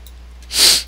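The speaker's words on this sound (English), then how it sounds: "He sneezed." One person sneezes once, loud and close, in a sharp hissing burst after a quiet moment of faint breathing.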